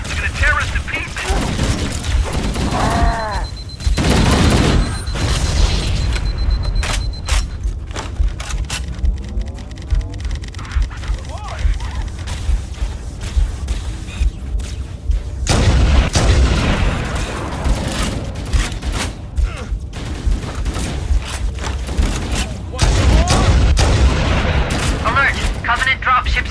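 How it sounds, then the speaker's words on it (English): Stationary Covenant guns fire in Halo: Combat Evolved in loud, dense bursts of shooting and explosions that come and go, with game voices shouting between the volleys. "Those stationary guns are gonna tear us to pieces!"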